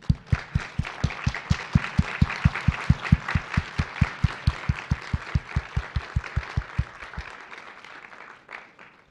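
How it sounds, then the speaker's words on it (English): Applause for student finalists at a university research presentation competition, a steady rhythm of loud, evenly spaced claps over a softer crowd patter that fades out toward the end. "please stand up as we applaud your efforts."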